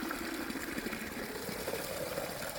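Steady rushing well water pours continuously into a bucket with a faint mechanical hum underneath, close and even throughout, no voices.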